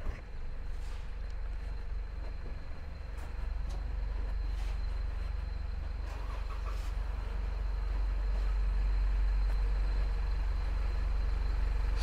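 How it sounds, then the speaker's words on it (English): A truck rumbles past on a Washington DC city street, a low, heavy engine drone that builds steadily and grows louder toward the end, with distant traffic around it and no talking. "Stupid truck."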